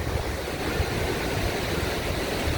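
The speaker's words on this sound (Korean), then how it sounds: "이쪽 토레스 비치가 유명한 게 뭐냐면 이 파도로 유명해요" Ocean surf at Torrance Beach, a popular surfing spot known for high waves, rumbles as a steady, moderately faint wash of breaking water mixed with low wind noise.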